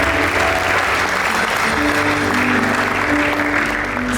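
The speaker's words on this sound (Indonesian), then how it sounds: "Tepuk tangan buat Tuhan." A congregation at a church youth prayer service breaks into loud, sustained applause, a thick continuous roar of many hands in a reverberant hall, with a faint musical drone underneath.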